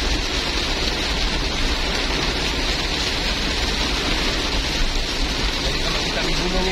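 Heavy rain falls in foggy mountain country on the way to Tompobulu, Maros, a loud, unbroken wash of noise throughout with no clear talk over it.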